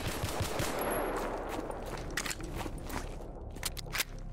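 Pistol gunfire in the video game S.T.A.L.K.E.R. Gamma, a few sharp reports over a dense, steady game soundscape.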